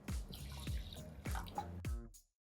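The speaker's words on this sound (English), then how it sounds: "you're going to add in 3/4 cup of water" Water is poured over soaked quinoa in a kitchen, heard as a few close splashing pours with gurgling, bubbly tones and short gaps between them, ending in silence; no one speaks.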